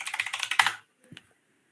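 Quick typing on a computer keyboard, a fast run of crisp, close keystrokes lasting under a second, then silence with a single faint click.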